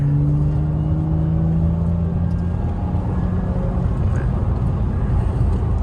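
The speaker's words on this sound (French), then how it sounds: "On va se taire, on va laisser chanter le flat 6." A Porsche Boxster convertible's flat-six engine droning steadily from inside the cabin as it accelerates, a smooth rising hum with a constant rumble and no talking.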